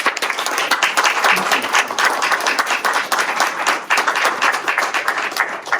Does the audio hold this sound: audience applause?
yes